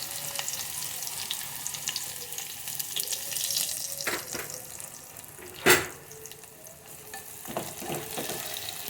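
Garlic sizzling in a ladleful of hot oil over a low flame, a steady close hiss throughout with a few sharper crackles and one brief louder pop midway.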